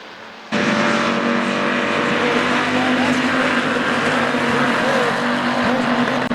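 IMCA Hobby Stock race cars roar around the dirt oval at RPM Speedway, a loud, dense engine drone that swells in abruptly and holds steady as the pack sweeps past, with faint tire noise beneath.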